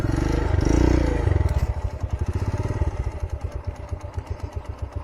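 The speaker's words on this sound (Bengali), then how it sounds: "ঘাটে ট্রলার চলে এসছে" A motor trawler's diesel engine chugs loudly nearby at a river ghat, its rhythmic thumping pulses slowing and becoming more distinct as it runs.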